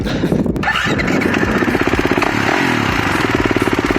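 A motocross motorcycle engine revs hard and close, its rapid pulsing growl rising and holding loud for several seconds.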